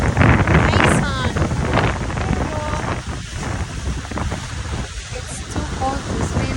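Strong wind buffets the microphone with heavy rumbling gusts near the sea, waves and surf underneath, and a voice speaks briefly through the noise.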